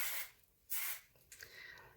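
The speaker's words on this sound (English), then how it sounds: "You can give it one last spray." Hairspray mists over freshly curled hair as a finishing hold in a few short hissing bursts, one near the start and another in the middle, with a softer spray after them, close and fairly quiet.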